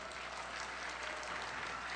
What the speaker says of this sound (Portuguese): Para essa eu quero um aplauso à parte para ela.